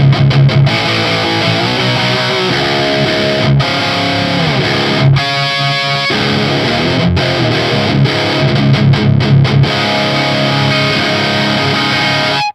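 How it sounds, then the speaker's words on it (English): A distorted electric guitar runs through a rectifier amp capture on Anagram, playing loud, thick chugging chords and riffs with short stops between phrases. "that's like a rectifier sound that I downloaded from Tone 3000"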